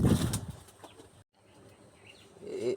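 Pigeons in a loft with nesting pairs and eggs make a brief, fairly faint flurry of wing flaps and soft shuffling, followed by a short silence and then quiet rustling and cooing.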